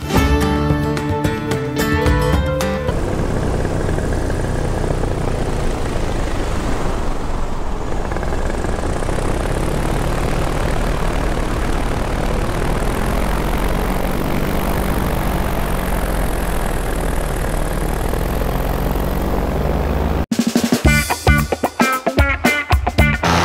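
Paramotor engine and propeller running steadily in flight, a continuous loud droning buzz with wind rush that holds for most of the clip, bracketed by brief bursts of other sound at the start and end.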